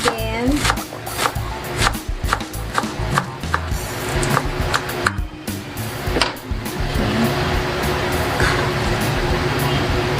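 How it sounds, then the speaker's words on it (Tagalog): Celery is chopped with a knife on a board, a run of sharp, rapid close taps with uneven rhythm under a speaking voice. "yung celery, chop din."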